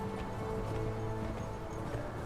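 Horse hooves in Conan Exiles clop softly and fairly far off beneath a dense game ambience, a loose uneven trot with no speech over it.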